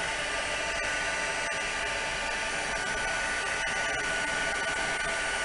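A heat gun blows continuously while drying freshly dyed lace, a steady, loud hiss-and-whir of hot air with a few faint ticks, running unbroken throughout.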